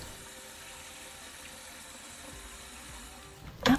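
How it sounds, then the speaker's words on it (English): Shrimp being rinsed under cold running water in a kitchen sink, a steady soft faucet flow and gentle splashing throughout, ending in a brief louder slosh. "Rinse 3 times in cold water."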